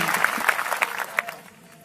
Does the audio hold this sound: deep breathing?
no